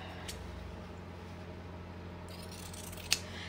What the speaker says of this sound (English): Trim off your triangle.